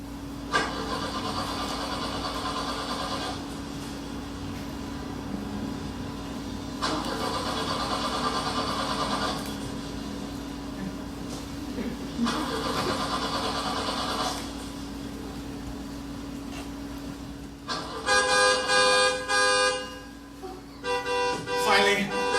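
An old station wagon's engine cranks again and again without starting, in repeated bursts of whirring with short gaps between them, followed by faster, choppier attempts at the end.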